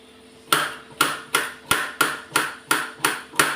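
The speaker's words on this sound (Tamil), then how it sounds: "இப்போ இந்த வெண்டைக்காவை இந்த மாதிரி நான் இந்த மாதிரி குறுக்கு வாக்கில் கட் பண்ணி வச்சுக்கிறேன்." Knife chopping okra crosswise on a cutting board, eight sharp evenly spaced chops about half a second apart, close and clear with no talking.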